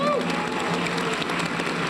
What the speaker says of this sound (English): Let's give them a Golden Lion round of applause.